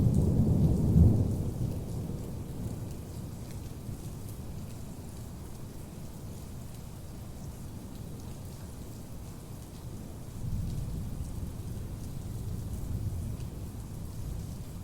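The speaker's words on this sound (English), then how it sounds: "Thunder." A thunderstorm with steady heavy rain hissing throughout, a deep rumble of thunder at the start, and a second softer roll later, with no voices.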